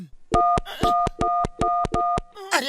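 A public phone booth telephone dialing a call: six evenly spaced tonal beeps in a steady rhythm, loud and close, followed by a brief burst of noise.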